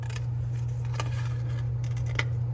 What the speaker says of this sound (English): now I'm gonna cut out this part of my foam